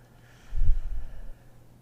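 A single slow exhale during a guided breathing exercise, a soft low rush of breath lasting under a second, close and alone in a quiet room.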